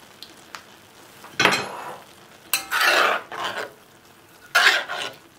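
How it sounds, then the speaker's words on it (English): Creamed corn with bacon is stirred in a pan in three separate bursts of scraping and thick, wet churning, with quiet gaps between them. "So I'm going to mix this in and again cook it for a few more minutes"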